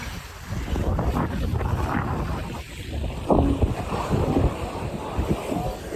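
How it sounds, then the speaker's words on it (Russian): Ferry crossing open water, with a steady broad rush of wind and waves against the hull and a low engine drone throughout, fairly loud and close, no voices. "Мы на пароме."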